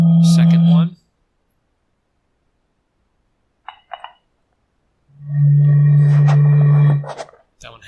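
Another glass bottle gives two long, close, resonant low hums with a few faint clinks in the quiet gap between them.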